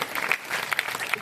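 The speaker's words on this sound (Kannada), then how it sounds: "ದಯವಿಟ್ಟು ಎಲ್ಲರೂ ಜೋರಾದ ಚಪ್ಪಾಳೆಯ ಮೂಲಕ" An audience claps steadily at a school parents' foot-worship ceremony, producing dense, even applause that fills the whole moment without a break.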